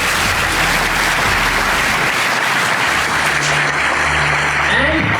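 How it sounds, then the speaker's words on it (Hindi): Applause from an audience at a felicitation ceremony at a BSF Academy, a loud, sustained wash of clapping with speech faintly underneath. "ताली बजनी चाहिए"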